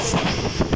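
The Karakoram Express rolls along the rails near Sadiqabad railway station, a heavy, loud rumble blended with gusty wind noise over a brief moment.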